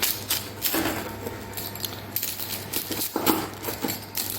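A pizza cutter rolls through baked pumpkin filo pie, with crisp crackles and scrapes of the flaky pastry over a steady low background hum, close and fairly quiet.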